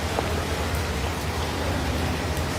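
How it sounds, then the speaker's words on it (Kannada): Heavy monsoon rain in Sringeri, a dense, steady roaring downpour filling the whole scene, loud and close with no pauses. "ಮಳೆನೂ ಯಾಕೋ ನಿಂತ ಇಲ್ಲ."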